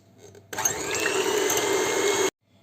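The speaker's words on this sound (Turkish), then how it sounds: "3 tane yumurta akını karıştırma kabımıza alıp mikser yardımıyla köpürene kadar çırpalım." An electric mixer whips three egg whites in a mixing bowl for pavlova at low speed, giving a steady whirring hum that starts abruptly and cuts off after about two seconds, with no talking.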